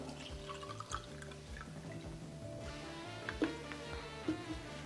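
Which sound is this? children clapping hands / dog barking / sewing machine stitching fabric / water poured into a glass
water poured into a glass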